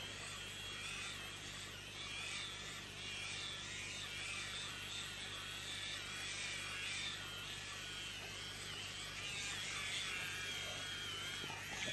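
A Babyliss rotating hair brush runs with a steady, faint electric whir and buzz through the whole stretch, even and unbroken with no talk.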